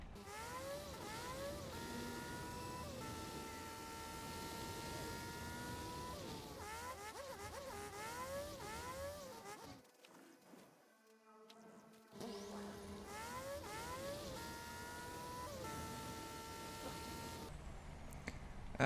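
Vehicle engine drone from a truck being driven in the factory-building video game Satisfactory, a steady tonal hum with rising and falling pitch sweeps, briefly dropping out midway before resuming at a constant level.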